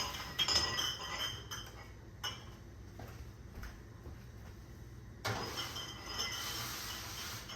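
Glass canning jars for squash pickles being set into an oven, with a few sharp glassy clinks and knocks spread out among quieter rustling and handling noise.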